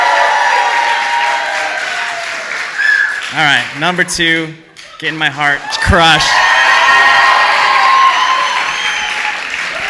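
Story slam audience in Madison cheering and applauding loudly to vote for a break-up story, broad crowd noise filling the room before and after a host speaks briefly over it.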